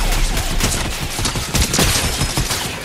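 Rapid bursts of video game gunfire crackle in a dense, loud, continuous stream of overlapping shots, close and unbroken throughout with no talking.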